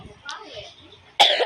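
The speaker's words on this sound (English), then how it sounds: "I have a cough" A single loud, sharp cough bursts out close up right after some soft, brief vocal sounds.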